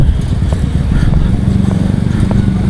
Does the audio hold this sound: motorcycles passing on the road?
yes